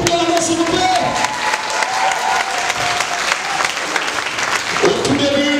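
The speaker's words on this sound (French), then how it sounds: "On applaudit pour le meilleur couple de l'année" Audience applauding the couple at a celebration, dense sustained applause from a sizable crowd filling the whole stretch, with a voice talking over it at the start and again near the end.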